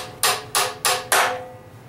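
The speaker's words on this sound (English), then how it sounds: "I found a broken screwdriver that I'm just gonna pound in on the other side" A broken screwdriver is hammered into wood while building a homemade lathe: four sharp, evenly spaced hammer blows, loud and close, each ringing briefly before the next.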